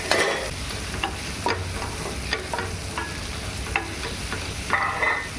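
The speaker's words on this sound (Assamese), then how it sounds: "এয়া ৰচুন ধুনীয়াকৈ লৰাই দিছে তাই" Garlic stirred with spices in a hot pan, with bay leaf, cinnamon, cloves, black pepper and ginger already added; a steady sizzle runs throughout, broken by repeated scraping strokes of a spoon against the pan.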